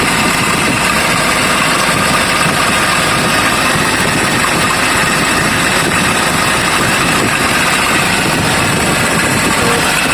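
A steady engine idles with a dense, even rumble and a gritty mechanical whir from a worn bearing running underneath throughout, loud and close, with no talking.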